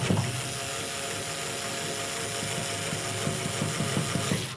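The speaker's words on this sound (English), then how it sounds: "I'm going to use a winder bit and a drill" A drill fitted with a winder bit turns a double bass tuning peg to slacken the string, producing a steady mechanical whir that holds for several seconds and then cuts off.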